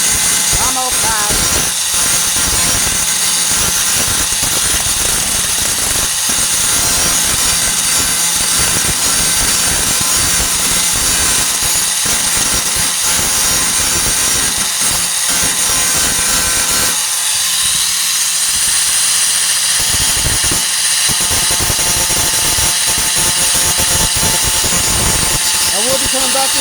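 An angle grinder works over welds on a 1998 Ford Ranger tailgate during rust repair, a loud continuous grinding whine that stays steady for most of the stretch with brief dips, close to the microphone.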